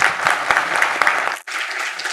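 Audience applause closing a seminar panel on mineral production and innovation, a steady wash of clapping from a crowd in a hall that breaks off for a split second and then continues.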